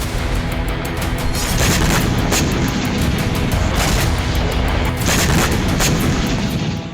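Blasts from more than twenty Hezbollah missiles striking Sderot, Israel, forming a dense, continuous roar of booming impacts and crackling gunfire-like bursts that holds loud and steady throughout, with no voices.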